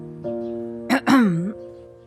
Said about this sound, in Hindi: उसने अपना गला साफ करते हुए कहा